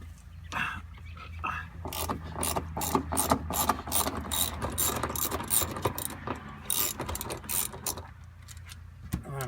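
A ratchet clicks in quick repeated bursts, close and loud, as it breaks loose the seat bolts on a 2015 Kia Sedona, with short pauses between the runs of clicks.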